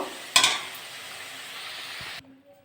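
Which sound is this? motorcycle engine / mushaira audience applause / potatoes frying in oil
potatoes frying in oil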